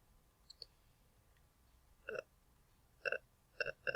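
Several sharp computer mouse clicks while saving in a web hosting control panel: two faint ticks early, then three louder, close clicks spaced about a second apart toward the end, with no talking.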